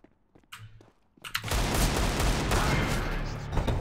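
Gunfire in the game Counter-Strike: Global Offensive on the Dust 2 map. A few sparse shots give way to a dense, sustained burst of rapid automatic fire that continues loud to the end, with a voice faintly heard early on.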